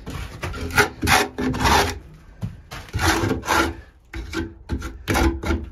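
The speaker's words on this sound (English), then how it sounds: "So the first thing I'm going to do is scrape all the polish off" A scraper dragged across a pigeon loft floor in repeated rasping strokes, close and loud, with short pauses between bursts and no talking.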